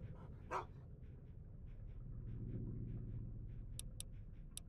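Dogmeat, a dog in Fallout: Tale of Two Wastelands, gives a single sharp bark followed by quiet rhythmic panting, soft and near, over a low game background hum.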